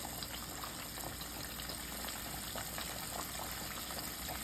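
Catfish pieces frying in hot oil, spaced apart in the pan, give a steady, dense sizzle and crackle that holds at an even level with no pauses.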